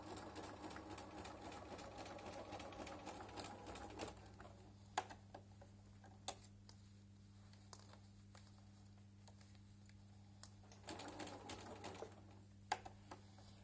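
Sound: sewing machine stitching a braided rug

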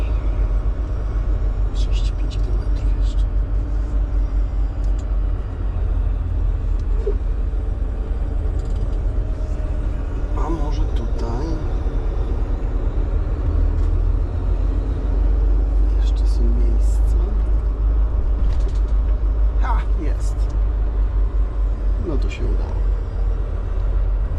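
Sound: car driving

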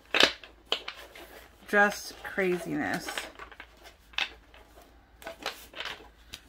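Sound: tarot cards being shuffled

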